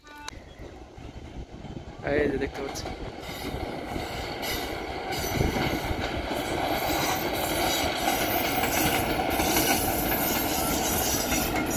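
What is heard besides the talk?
train arriving at a railway station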